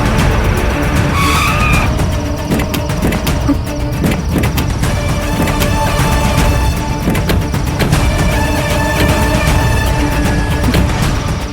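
A car braking to a stop, a loud continuous rumble of engine and road noise with a brief high tire squeal early on.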